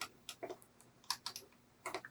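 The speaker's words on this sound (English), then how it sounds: "So I'm just going to cut this manually with my scissors." Scissors snip sewing thread beside a sewing machine, making quiet, irregular crisp clicks, several quick cuts in close succession with short pauses between them.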